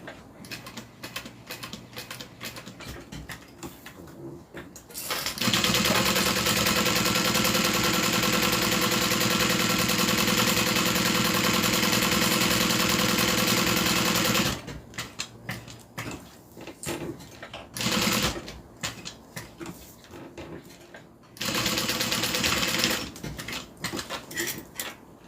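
A sewing machine stitches and backstitches a seam on a Tiffany Dome satchel bag, its motor running in a long, steady buzzing burst, then two shorter runs separated by quieter handling noises.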